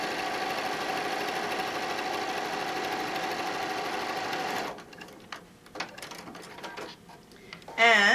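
A sewing machine runs a seam on a small cell phone bag, humming and clattering steadily and close for several seconds. It then stops, leaving softer fabric handling and a few light knocks.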